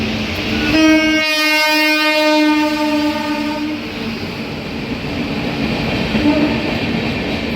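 A loud train horn blares for about three seconds, then the heavy rolling rumble of a passing Mumbai train continues close by.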